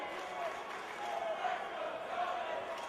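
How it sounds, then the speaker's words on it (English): Spectators at a state high school wrestling championship match make a diffuse crowd roar with rising cheers and chanting, heard from a distance at modest level. "You can hear the crowd, the "Let's Go Tony" chants"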